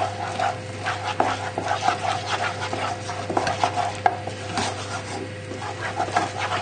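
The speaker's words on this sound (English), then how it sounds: "add in a dash of milk at a time, and then just stir it in gently" Gentle stirring and scraping of a fish pie mixture as milk is worked in a dash at a time, soft irregular strokes of a utensil in a pan over a steady low background hum.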